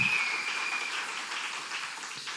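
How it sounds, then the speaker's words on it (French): Church congregation applauding in praise during a service, a brief steady wash of clapping, moderately loud, with no speech. "On applaudit pour le Seigneur."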